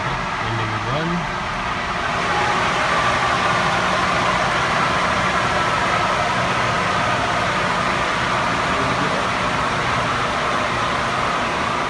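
A truck engine runs with a steady low rumble and broad drone after an engine power test run, continuous and close, with a voice speaking briefly at the start.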